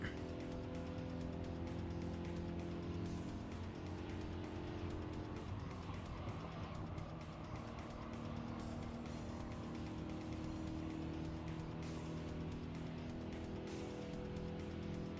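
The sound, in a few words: race cars on final lap in Gran Turismo 7 video game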